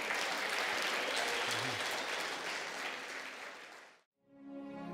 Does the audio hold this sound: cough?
no